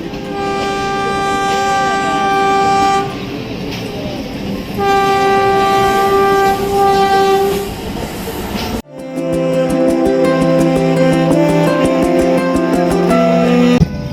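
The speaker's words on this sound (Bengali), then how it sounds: "আবারও ললিতনগর থেকে ট্রেনটি ছেড়ে দিল" A train pulls out of Lalitnagar station, sounding two long loud horn blasts before the steady rumble and rhythmic clatter of wheels on rails takes over, heard from on board.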